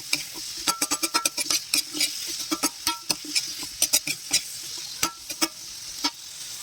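Sweet potato leaves sautéed with sardines are stirred in a hot pan, a spatula scraping and clacking against the metal in quick irregular strokes over a steady close sizzle of frying.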